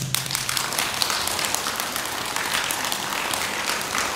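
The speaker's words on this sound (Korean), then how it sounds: "담임 교사님 박수 한번 주십시오." Dense applause from a sizable audience fills the whole stretch, loud and continuous without pause.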